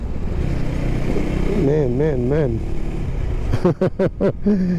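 A KTM 390 Enduro R motorcycle is ridden with its single-cylinder engine droning up close, the pitch wavering and rising, then several sharp throttle blips near the end.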